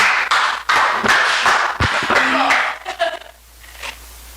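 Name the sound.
applause, clapping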